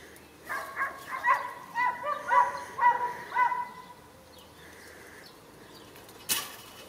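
Hunting dogs searching for a hare bark in a quick run of about seven yelps, moderately distant and outdoors, before falling quiet and leaving a faint background.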